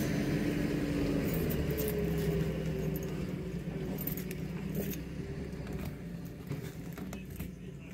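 Metal keys jangle continuously and fairly loudly near an RV at a campsite by Lake Pleasant, Arizona, with a low vehicle hum underneath.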